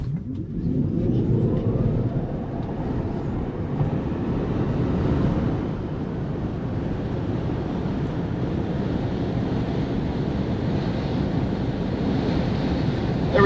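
A Tesla Model 3 Long Range on a closed road makes a sustained whir and rushing roar with heavy wind noise through a full quarter-mile acceleration run, heard continuously and fairly loud.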